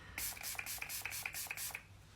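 Seven or eight quick hissing sprays of water onto a brush in a steady rhythm, close and fairly soft, then quiet.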